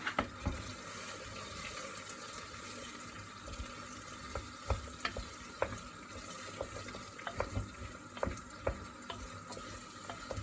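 Zucchini and other vegetables are stirred in a pan, with a soft sizzle running underneath and a series of faint, irregular scrapes and clinks from the utensil. No one speaks.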